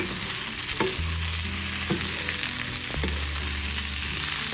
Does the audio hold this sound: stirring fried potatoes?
yes